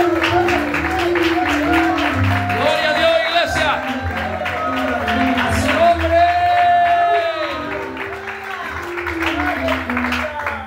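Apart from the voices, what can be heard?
church congregation applauding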